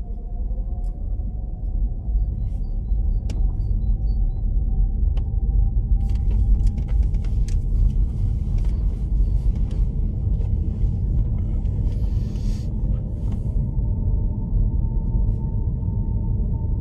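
A learner's car pulls away at the start of a mock driving test, its engine a low, steady rumble close by that continues as it moves off.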